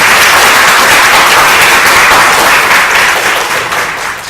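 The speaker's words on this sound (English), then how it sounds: "let's give applause to our staff" A large audience claps loudly in a dense, sustained wash of applause that slowly fades toward the end.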